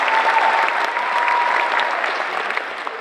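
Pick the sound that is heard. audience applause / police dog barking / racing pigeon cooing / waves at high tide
audience applause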